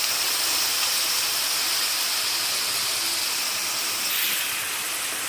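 Potato slices deep-frying in hot oil for homemade chips give a steady, dense bubbling hiss that holds at one level throughout, close by with no voices.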